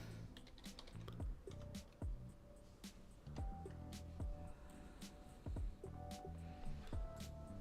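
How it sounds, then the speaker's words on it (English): Computer keys clatter in quick, irregular bursts, close and fairly quiet, with a few louder key strikes among the steady typing. "Let's type in method 3."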